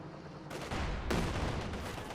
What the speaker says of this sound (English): Shots fired at the Maxim crew, sending running